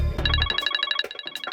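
Mobile phone ringing with an incoming call, a rapid trilling electronic ringtone of repeated short high pulses, close and clear after a brief low thump at the start.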